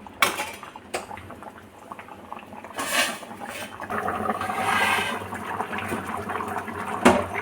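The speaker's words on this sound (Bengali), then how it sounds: "আমার তরকারি ফুটে গেছে" Rui fish curry with bori and eggplant simmers in a pan on a gas stove, a soft steady bubbling close by, with occasional clinks of a metal utensil against the pan and no speech.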